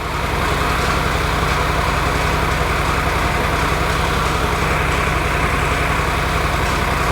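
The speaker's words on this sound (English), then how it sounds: "It's definitely missing on a cylinder." A Triumph Tiger 800XC motorcycle engine idles close up, loud and continuous, with a steady low pulsing throb while it misfires on a cylinder. No voices are heard.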